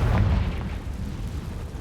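A Confringo blasting spell from Hogwarts Legacy bursts into a deep, rumbling explosion with a low-heavy boom at the start that rolls on steadily and loud for the whole moment, no voices over it.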